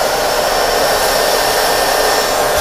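A Deerma DEM-DX700S handheld vacuum cleaner runs at full power, a loud, steady high-pitched whirring motor hiss with no variation, close to the microphone and with no voices.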